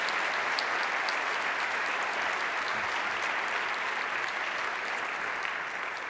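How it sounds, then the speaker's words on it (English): An audience at a live public talk event on music breaks into sustained applause, a dense, even wash of clapping from a large crowd that holds steady throughout. "I think that deserves a round of applause for Linton Red Wilson."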